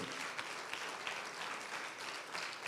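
A church congregation applauds during a Spanish-language Christian sermon, producing a steady, dense wash of many hands clapping at once throughout.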